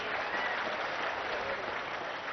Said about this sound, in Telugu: గట్టిగా చప్పట్లు కొట్టి ఆయన అభినందించండి.